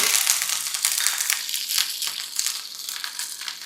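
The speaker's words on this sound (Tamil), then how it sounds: "இப்போ நம்ம இந்த பச்சை பயிறு குழம்புக்கு ஒரு தாளிப்பு ஒன்று போட போகிறோம். கொஞ்சமாக கடுகு, கறிவேப்பிலை," Mustard seeds and curry leaves sizzle and crackle in hot oil, tempering for a green lentil curry, giving a steady close crackling hiss with scattered sharp pops and no voices.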